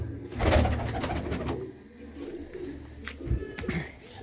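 Flying pigeons cooing nearby, several low throaty coos overlapping in an irregular rhythm with some light rustling around them.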